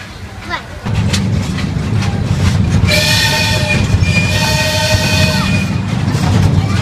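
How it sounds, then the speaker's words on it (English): At a summer fair, a train rumbles past close by, and its horn blows twice in long tones over the rolling noise while people talk nearby. "There's a train."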